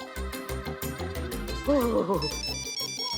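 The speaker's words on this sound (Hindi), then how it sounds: "संतोष जी फोन" A musical ringtone plays a bright, rhythmic tune with a steady beat and a wavering melody, close and fairly loud, with no one speaking.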